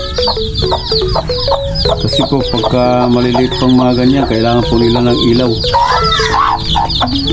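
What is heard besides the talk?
hen with her chicks clucking in a brooder cage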